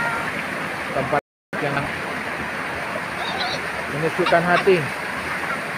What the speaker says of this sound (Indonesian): Kita bisa melihat aliran sungai yang lebih jernih, yang masih alami, belum terkontaminasi oleh kotoran-kotoran.